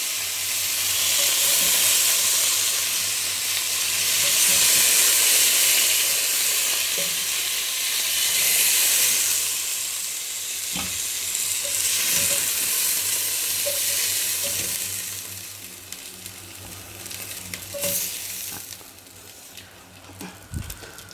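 Veal pieces sizzle and fry as they brown in a cocotte, with a loud continuous hiss that ebbs and swells and occasional stirring clinks. No voices are heard.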